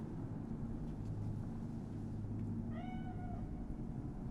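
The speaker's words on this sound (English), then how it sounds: "Chill, just a cat." A cat meows once in the Cyberpunk 2077 video game, a short rising-and-falling call over a constant low ambient hum and rumble of the surrounding city.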